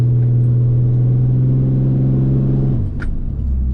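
A turbocharged truck fitted with a Banks Monster Ram intake drones with a steady, loud engine tone up close, holding the pull for a few seconds before the note drops and the engine settles back.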